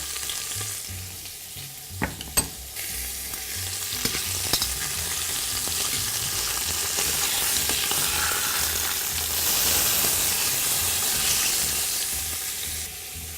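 Potatoes fry in a generous spoonful of butter in a pan, giving a steady, close sizzle and crackle with a few sharp clicks and stirring knocks early on, swelling slightly toward the end.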